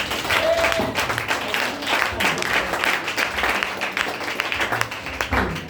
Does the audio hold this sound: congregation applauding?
yes